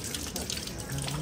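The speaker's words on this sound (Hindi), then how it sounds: "तो ये जो है इस टाइम पे पानी निकल रहा है इनमें से।" Water runs steadily from an outdoor fountain spout while hands are washed under it, a soft continuous splashing hiss with faint voices in the background.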